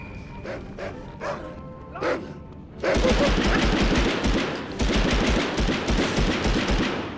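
Gunfire in a video game: a few scattered shots at first, then a loud, dense burst of rapid automatic fire that continues to the end, with bark-like yelps mixed in.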